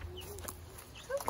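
Faint, brief high peeps from baby chicks among chickens in a homemade coop, a few short chirps over quiet background.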